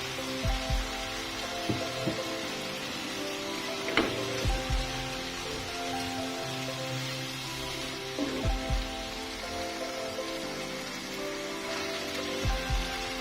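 Cassava leaves and papaya flowers stir-fry in a pan with a little added water, giving a steady close hiss of sizzling broken by a few soft knocks and clinks.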